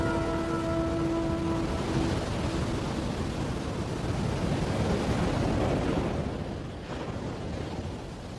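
Storm wind roaring over an island coast with heavy ocean surf crashing, a loud, dense, unbroken wash of noise throughout with no voices.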